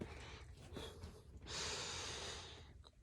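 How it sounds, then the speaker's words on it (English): One person draws a deep breath close to the microphone, beginning with short sniffing intakes and then a long, airy exhale-like rush. It is soft and intimate, with no words spoken. "Take a deep breath with me"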